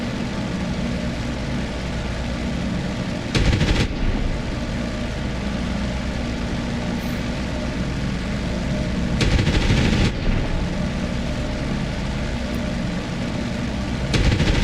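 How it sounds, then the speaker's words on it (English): Aircraft strafing runs in the DCS World flight sim during a P-47 Thunderbolt mission, with three short bursts of machine-gun fire at intervals over a constant, droning engine hum. "They're strafing near me."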